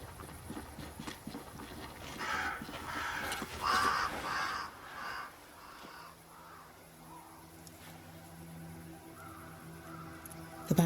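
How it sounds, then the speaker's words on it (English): Crows caw in Banishers: Ghosts of New Eden against a dense, continuous game ambience, with a cluster of calls in the first half before the scene grows quieter. "Crows. They flock to that great tree up there."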